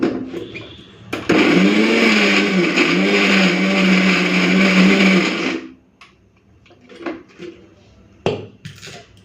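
A kitchen blender loudly grinds spiny gourd paste together with fried prawns, garlic and dried chillies, a steady whirring roar lasting about five seconds before stopping, followed by faint clatter.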